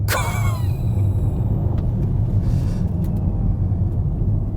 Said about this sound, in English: that is the kind of pin back acceleration we've come accustomed to with EVs